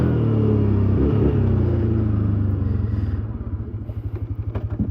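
Loud, close engine of a 2007 Can-Am Outlander Max XT 400 two-up ATV, revved high at first, then dropping to a lumpy, pulsing low throb toward the end.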